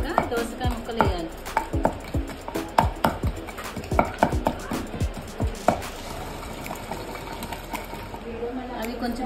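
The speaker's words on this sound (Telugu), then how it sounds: "వేపి అవన్నీ వేసి రోట్లో దంచుతున్నామండి" Roasted spices are pounded in a stone mortar at a farmhouse with a quick, fairly regular run of sharp, close thuds. The strikes fade and stop near the end, and voices can be heard faintly beneath.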